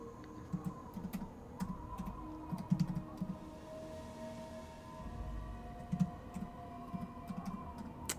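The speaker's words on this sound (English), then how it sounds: "Ignore the typing, if you can hear that." Quiet clicking of a computer keyboard, keys tapped in short irregular clusters with pauses, faint and close over a low hum.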